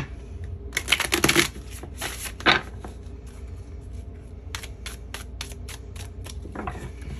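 Tarot cards being shuffled in quick papery bursts, a louder riffle early on, then a string of crisp separate flicks, close by with no talking.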